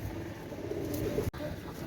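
Pakistani Rampuri pigeons coo faintly through a steady murmur of background noise, the soft, low calls blending into the ambience of a pigeon market stall.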